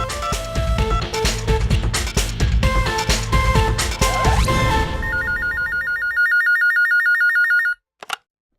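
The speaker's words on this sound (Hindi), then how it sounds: "मैं मिनट से पहले अभी उनको फोन कर देता हूँ" A telephone rings with a bright repeating electronic trill, starting over busy music and then ringing alone before cutting off abruptly.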